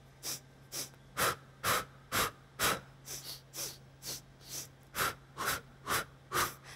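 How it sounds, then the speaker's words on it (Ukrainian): An 11-year-old boy vocalist does a breathing exercise in a quiet room, with about a dozen sharp, rhythmic breaths in and out through the nose, each a short burst, close and alone with no talk. "треба вдихати повітря 4 рази и видихати 4 рази"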